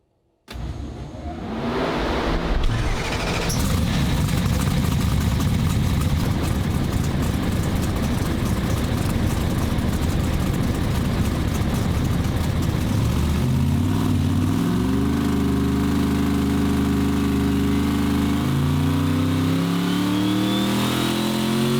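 A swapped race-car engine running on a dyno with no timing and a lean mixture, roaring loud and continuous with hard revving whose pitch climbs and shifts throughout, close up with no talk.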